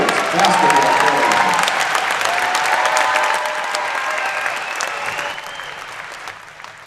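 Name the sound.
applause at high school senior night basketball game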